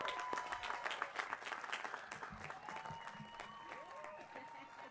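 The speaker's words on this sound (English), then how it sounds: "one more time, round of applause" A crowd claps at the College of Alameda 2023 commencement, moderately distant and gradually thinning, with a voice talking over the fading applause.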